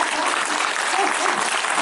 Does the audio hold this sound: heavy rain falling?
no